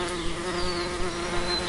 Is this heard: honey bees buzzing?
yes